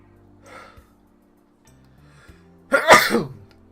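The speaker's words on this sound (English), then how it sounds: "okay, that was a late reaction sneeze." A single loud sneeze bursts out near the end, preceded by a few faint breathy sounds and quiet murmurs in an otherwise silent room.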